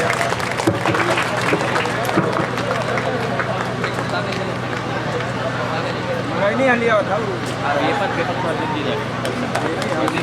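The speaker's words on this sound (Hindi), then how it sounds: "धमाकेदार तालियां।" Loud, dense applause from a large audience at an award event, steady throughout with crowd noise and voices mixed in.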